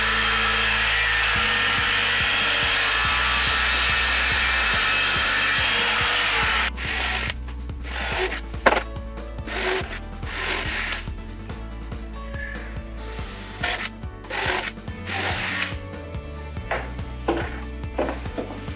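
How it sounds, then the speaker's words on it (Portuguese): A wooden divider panel for a toddler's toy stove cabinet is cut with a power saw, a loud continuous whine for several seconds, then gives way to choppier rasping strokes and knocks close by. "Agora vou cortar a divisória que vai dividir o interior do armário"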